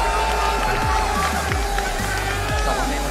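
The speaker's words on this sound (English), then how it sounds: "He wants the crowd noise." A large tournament audience at a Tekken 8 arena event at PAX roars and cheers continuously, a dense, steady wash of crowd noise with commentators talking over it.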